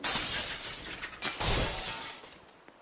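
Glass shatters and breaks in the Roblox game, a loud crashing burst with a second surge of shards, then a tinkling decay, heard alone without talk.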